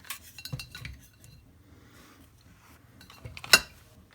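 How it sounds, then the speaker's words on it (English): Metal methanol carburetors handled and piled up, scattered light metallic clinks and clunks close by, ending in one sharper clank. "Just piling on carburetor after carburetor."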